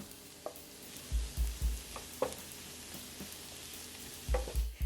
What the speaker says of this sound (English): And we saute.